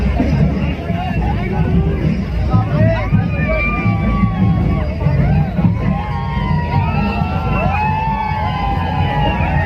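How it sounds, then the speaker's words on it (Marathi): A large crowd of young college people gathered at Chiplun to see Bakasur, a famous racing bullock, forms a dense, steady hubbub of overlapping voices with occasional shouts, close and loud throughout. "मागच्या बाजूला बघू शकता किती मोठ्या प्रमाणावरती इथे तरुण वर्गाने गर्दी केली बकासूरला पाहण्यासाठी"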